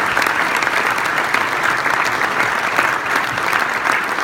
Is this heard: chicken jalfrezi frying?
no